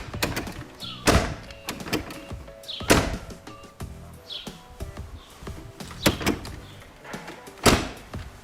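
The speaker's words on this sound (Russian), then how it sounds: "Ну что, проверим, как закрывается дверь?" A VAZ 2104-2107 (Lada) car door is tested repeatedly, giving several sharp thunks and clunks spaced about a second apart, close and fairly loud, with small rattles and latch clicks between the slams.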